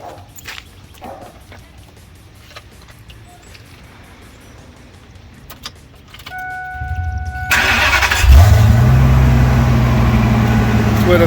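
Quiet clicks and shuffling in a garage, then a 2000 Ford F350 V10 truck cranks and fires up loudly, settling into a deep, rumbling rev up close.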